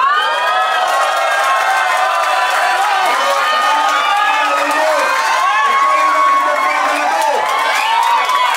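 Crowd at a Filipino rap battle event in Taiwan shouting and cheering loudly and continuously, dense overlapping voices and whoops filling the whole stretch.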